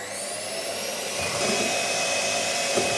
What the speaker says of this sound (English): bring in your egg whites and just whisk them until you have soft